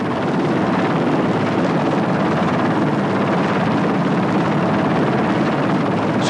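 A helicopter flying alongside an ultralight aircraft during a mid-air refuelling attempt, its rotor and engine roar loud, dense and steady throughout with no pause.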